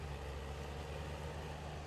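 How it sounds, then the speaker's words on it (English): A tractor engine idles in Farming Simulator 19, a steady low rumbling drone held at constant level and quite faint, with no talking over it. "I love the way this tractor sounds."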